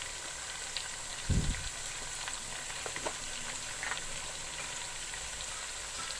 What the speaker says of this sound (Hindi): अब इस मसाले को मैं थोड़ी देर भून लूँगी।